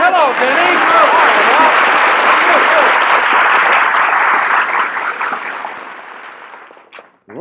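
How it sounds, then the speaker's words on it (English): Studio audience applause at a live radio comedy broadcast swells loudly and steadily, then fades away over several seconds, with voices talking over the start. "was all that applause for me?"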